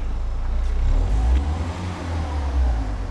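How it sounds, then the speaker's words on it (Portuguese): A car rolls slowly over a Thrunite Ti4 flashlight, its engine a steady close low rumble with slight swells in loudness and no clear crunch standing out. "Eu passei com o carro em cima dela"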